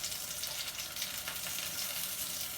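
Padrón peppers frying in very hot oil, turned so they brown evenly, give a steady, close, bright sizzle with a soft crackle that runs unbroken throughout, with no voices.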